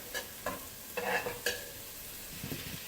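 Ingredients for a homemade lasagna meat sauce sauté in a pan. A few soft spatula scrapes and taps sound at uneven intervals over a faint, low sizzle, fairly quiet and close, with no talking.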